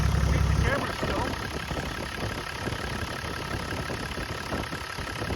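A Toyota 1HD-FTE turbo diesel engine idling steadily after fitting brand-new OEM injectors and injector pump, a continuous close rumble with someone talking over it.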